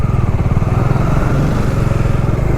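A motorcycle engine thumps at a steady idle close by, with an even rapid pulsing and a loud continuous rumble, no talking.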